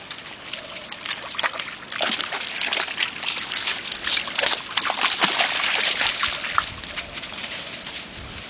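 A water spaniel-type dog splashes and sloshes through a forest stream, with irregular bursts of splashing and trickling water close by that build toward the middle, and no talking.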